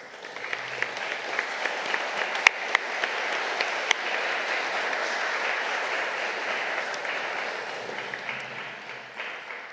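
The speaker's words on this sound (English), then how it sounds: "if we can give them a round of applause" An audience at a council annual general meeting applauds the staff, a sustained wash of clapping with a few sharp claps at first, swelling to a steady level and then tapering off.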